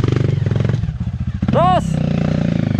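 A motorcycle on a night trail ride has its throttle blipped repeatedly, the engine pulsing in a rapid, loud, close rhythm that rises in a short rev, with voices speaking over it.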